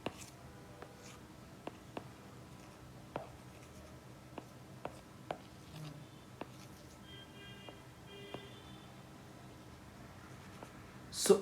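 Pen scratching and tapping on paper while a heart diagram is sketched during a cardiology lesson on mitral regurgitation, with quiet intermittent strokes and clicks over a faint background.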